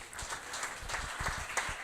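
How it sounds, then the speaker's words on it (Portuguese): Church congregation applauding the Lord at a Christian conference, a brief, fairly quiet patter of clapping from a crowd spread through the room. "dê uma salva de palmas ao Senhor"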